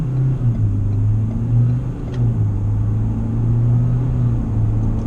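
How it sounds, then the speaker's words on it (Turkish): Ford Ranger Wildtrak pickup in four-wheel drive at full throttle, a low, steady engine rumble with a slowly rising pitch heard from inside the cabin, no talking. "Bu sefer de bir dört çeker modunda deneyelim. Şöyle gaza sonuna kadar bastım."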